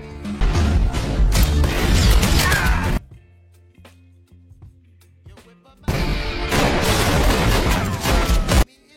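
Loud, dense bursts of gunfire in two long volleys during a battle in the TV series Tulsa King, with a quieter stretch between them. Rapid overlapping shots and crashes, close and intense.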